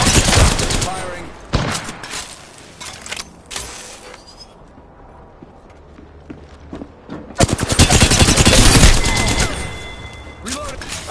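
Gunfire in a PS4 shooter: loud bursts of rapid automatic fire, then a quieter lull with scattered sounds, then another long, intense volley of shots, close and dominant, with a player's voice talking over parts of it.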